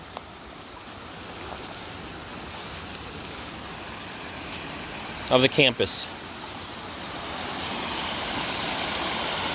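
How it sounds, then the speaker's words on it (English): Water rushing fast over rocks beside Berry College's Old Mill after rain, a steady broadband roar throughout, with a man's brief spoken remark cutting in midway. "no doubt the water's running a little bit faster than normal because of the rain"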